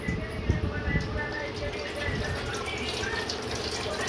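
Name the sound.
pouring a full bottle of water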